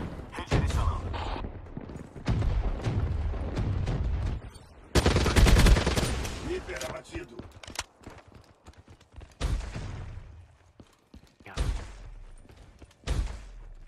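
Automatic fire from the Man-O-War rifle in the video game Black Ops 3, bursts of loud gunshots spread through gameplay with a thick, heavy stretch midway and a few separate shots near the end, with faint voices underneath.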